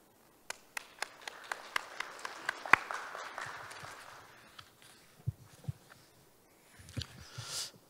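Sparse applause at the opening ceremony of a shipbuilding society general meeting, a few distinct nearby claps over faint clapping, then scattered claps and shuffling noises trailing off.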